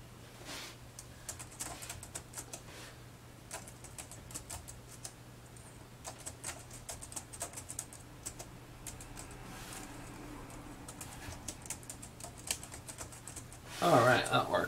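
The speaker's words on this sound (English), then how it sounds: "we know the keyboard works because I just typed note" Typing on the keyboard of a Lenovo B575e laptop: scattered light key taps over a steady low hum, with a burst of louder noise at the very end.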